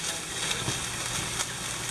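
Egg whites frying in a pan, a steady soft sizzle with faint crackles and pops, close and continuous with no talking.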